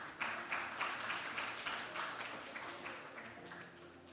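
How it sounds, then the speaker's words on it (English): Audience applause at an annual meeting, soft steady clapping from a crowd in a hall, heard faintly and continuously with no voices. "A round of applause."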